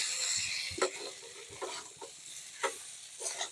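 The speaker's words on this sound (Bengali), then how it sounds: "তার জন্য দেখুন হালকা আঁচে এই যে খুব সুন্দর করে কষিয়ে নিচ্ছি।" Spiced taro and prawns being sautéed on low heat, a faint soft sizzle broken by several separate scraping stirs of the spoon at uneven intervals.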